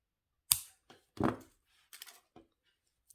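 Jewellery wire is snipped short while wire-wrapping octopus earrings, a sharp metallic clip followed by a few softer clicks and taps spaced across about three seconds.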